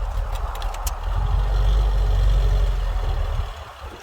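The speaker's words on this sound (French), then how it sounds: "Alors, attends, on essaie de passer le tracteur." A tractor engine rumbles low and steady as the vehicle moves past at close range, growing louder midway and then easing off slightly toward the end, with no speech over it.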